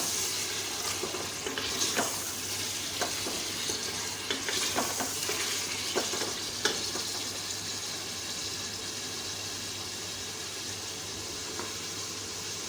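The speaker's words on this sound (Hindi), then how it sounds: "मिक्स मटन है 1/2 kg, ये डाल दें। खूब अच्छी तरह से भुनाई कर लें।" Half a kilo of mixed mutton roasting and being stirred in a pan for a mutton and cauliflower gosht, a steady soft sizzle with scattered scraping clicks of the spoon, close and continuous without talk.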